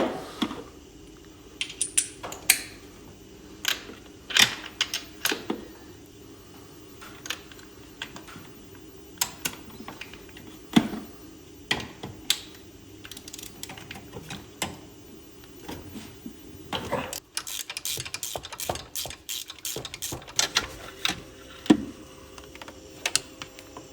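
A ratchet fitted with extensions works the spark plugs out of a 6.1 HEMI engine, giving sparse, sharp clicks and short ticking bursts against a quiet shop background.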